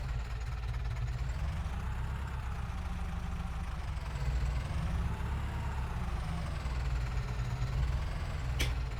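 A small tractor engine idles in a farming video game, a low steady rumbling drone with a faint knocking texture, continuous and close, with no talking.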